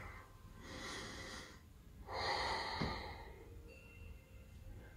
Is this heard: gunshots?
no